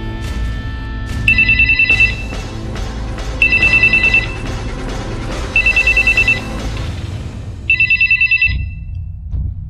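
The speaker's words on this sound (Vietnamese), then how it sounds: "Có điện thoại kìa, nghe đi, nhìn tao hoài vậy." Telephone ringing, four evenly spaced bursts of a trilling electronic bell about two seconds apart, loud and close over a low background hum.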